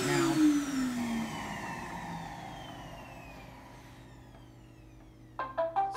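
A Roomba i6+ robot vacuum empties itself at its self-emptying dock with a loud, steady suction roar. The roar sweeps downward and slowly fades, and a few short mechanical clunks and beeps follow at the end.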